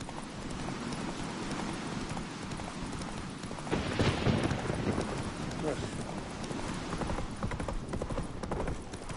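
Roach, the horse in The Witcher III, gallops with steady rapid clip-clop hoofbeats under a continuous wash of game noise and a voice talking, the hooves swelling louder near the middle.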